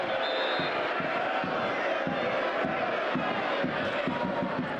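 Large home football crowd at a non-league match, a continuous loud roar of voices with shouts and rhythmic bursts, dense and unbroken throughout.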